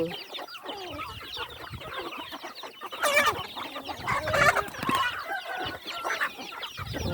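Khao Kho chickens cluck in a busy, close flock, with overlapping clucks and squawks swelling louder midway and a faint crow mixed in.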